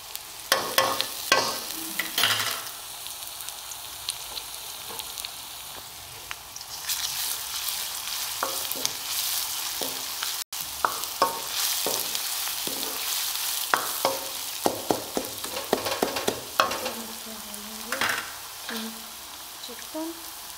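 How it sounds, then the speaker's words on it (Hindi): Garlic ginger paste sizzles in hot oil in a chicken karahi as it is stirred, with a steady frying hiss and repeated scraping clicks of the spoon against the pan, close and unbroken. "अब हम इसमें डालेंगे लहसुन अदरक का पेस्ट।"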